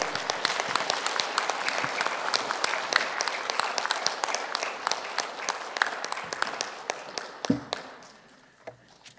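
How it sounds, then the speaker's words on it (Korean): Church congregation applauding a pastor in welcome at a prayer meeting, with dense, steady clapping from many hands filling the room before thinning into a few scattered claps and fading out. "박수로 환영합니다"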